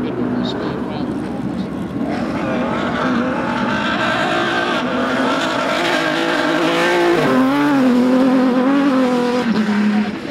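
Off-road vehicles racing around the corners of an outdoor event arena at Goodwood Festival of Speed 2018, engines revving and droning continuously, loud with rising and falling pitch as they take the turns, a commentator talking over them.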